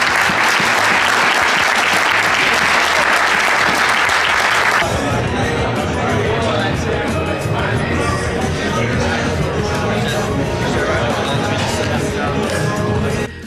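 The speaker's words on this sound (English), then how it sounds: "All a big round of applause." Audience at a real-estate flipping mastermind event gives a big round of applause, sustained loud clapping with crowd noise and some voices mixed in, continuing for the whole stretch.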